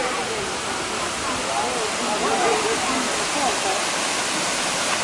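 A waterfall roars in a steady, loud, continuous rush of falling water heard close by, with no distinct voices over it.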